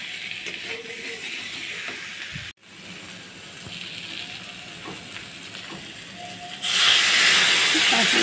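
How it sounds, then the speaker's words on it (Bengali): Prawns are sautéed in a pan, giving a steady, close hiss of sizzling oil with a short break midway, then a louder, brighter surge of frying toward the end. "চিংড়ি মাছটাকে দিয়ে একটু কষিয়ে নেব।"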